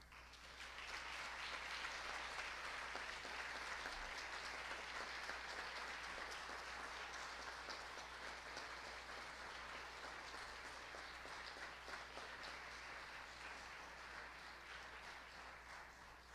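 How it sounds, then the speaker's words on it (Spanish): A large crowd applauds for Maestro Domingo Serrano at a memorial tribute, the clapping a dense, steady wash sustained for the whole stretch with a low hum beneath it. "un fuerte aplauso"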